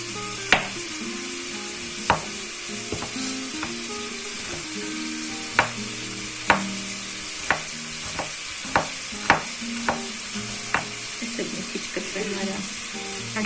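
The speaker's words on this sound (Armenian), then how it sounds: "Մինչ միսը տապակվում է" Meat sizzles steadily in a frying pan in a home kitchen, with sharp knocks of a knife on a chopping board cutting red onion recurring over it, close and clear.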